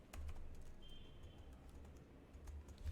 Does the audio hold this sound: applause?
no